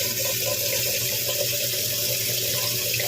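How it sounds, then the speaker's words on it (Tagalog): Tap water pours steadily into a pot for boiling pork skin, a close continuous splashing gush that lasts a few seconds with no voices. "Ang gagawin ko po ay lalagyan po muna natin yan ng tubig"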